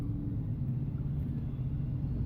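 Road traffic passing outside near a phone booth, heard as a continuous low rumble of car engines and tyres at moderate distance, steady throughout with no voices.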